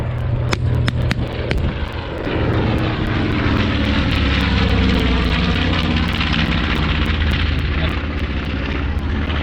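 A WWII propeller bomber flies over a battle reenactment, its engines a loud, steady roaring drone, punctuated by sharp cracks of gunfire, with voices faintly underneath.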